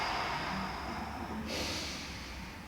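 A single long breath is exhaled during a Pilates exercise, a close airy whoosh that fades over a couple of seconds.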